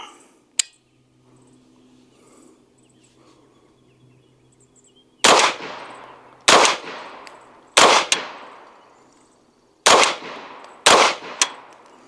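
A Springfield Kuna pistol caliber carbine fires five sharp, loud gunshots at a shooting range, spaced a second or two apart, each followed by a short decaying ring, after a single earlier clank and quiet background.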